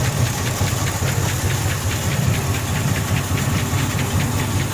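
A 1962 Buick engine fitted with an HHO kit runs steadily up close, a loud continuous rumble with a fast rhythmic knock throughout and no talk.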